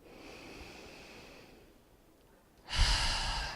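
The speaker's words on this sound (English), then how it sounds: "Take a couple deep breaths." A group of people taking deep breaths together during a guided heart-opening meditation session, a soft sustained exhale followed by a sharper, louder breath near the end, close and quiet.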